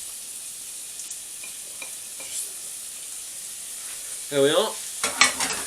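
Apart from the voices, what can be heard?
gammon and pork steak sizzling in stir fry pan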